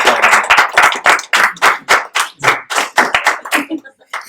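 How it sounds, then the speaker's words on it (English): A studio audience gives a guest a round of applause in sparse, rhythmic claps that are close and distinct and fade near the end. "Everyone, let's give our guest a huge round of applause."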